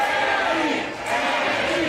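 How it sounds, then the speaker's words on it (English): A theater crowd at a wrestling match roars in a dense, continuous wall of cheering and shouting that dips briefly before swelling back up, with no distinct voices standing out. "The Halton Theater sounded like they were firmly on Orion."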